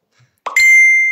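A phone message notification sounds as a single close, loud bell-like ding after a soft click, its bright tone ringing on and slowly decaying.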